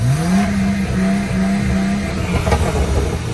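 A tuned car launches on launch control set to 4,000 RPM, with a close, loud engine roar holding at high revs and then pulling away in one continuous acceleration.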